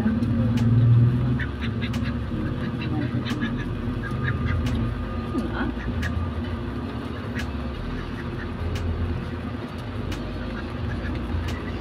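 A female duck quacking near a person, with scattered short quacks and nasal calls spread across the clip over a steady background hum, and a person talking at times.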